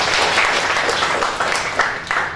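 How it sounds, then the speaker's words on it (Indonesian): A brief burst of audience applause at a parenting event, with dense, close clapping that holds steady and eases off slightly near the end. "Tepuk tangan untuk mereka semua."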